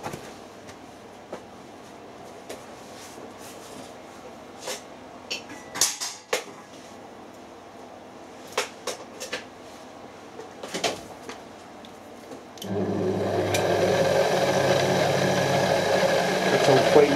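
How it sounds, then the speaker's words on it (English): A bench tool grinder with a freshly mounted wheel switches on near the end and settles into a steady, loud running hum. Before that come scattered knocks and handling clatter in a quiet workshop. "Right, I've got the wheel mounted, I'll power it up."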